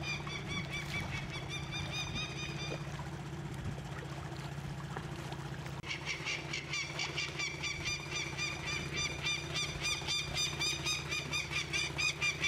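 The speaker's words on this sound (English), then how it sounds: "This was the most aggressive bird that we had." An aggressive goose honks repeatedly near a river by rapids, with steady loud honks in a rhythmic series over a constant rushing water background.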